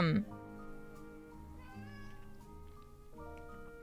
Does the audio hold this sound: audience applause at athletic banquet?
no